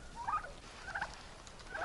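Domestic turkeys out foraging on open ground before snowfall gobble in three short bursts spaced across the moment, moderately near over a steady low outdoor hum.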